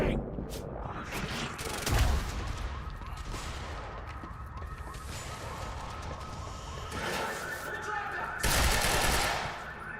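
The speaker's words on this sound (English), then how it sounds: "Oh, that shotgun hurt." Shotgun blasts in the video game Quantum Break: loud, booming bursts around two seconds in and again near the end, over a steady background of game noise and music.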